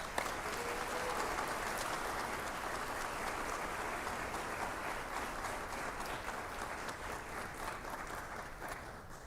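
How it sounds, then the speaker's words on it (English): An audience at a university awards for excellence ceremony claps steadily for the full length, a dense, even patter of many hands with no voices over it. "Let's hear another round of applause."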